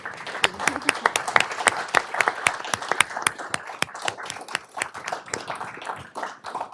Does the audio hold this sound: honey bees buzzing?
no